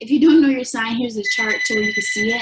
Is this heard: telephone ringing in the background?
yes